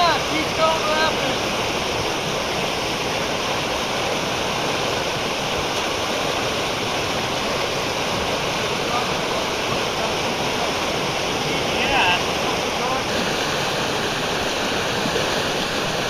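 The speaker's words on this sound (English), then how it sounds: "You like these rapids, right?" Rushing river rapids make a constant broadband roar, close and loud throughout, with a voice speaking briefly over the water.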